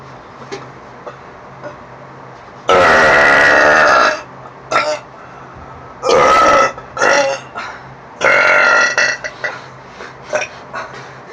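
Loud, long burps in a burping contest, three big drawn-out belches separated by shorter smaller burps and quiet gaps, close and alone.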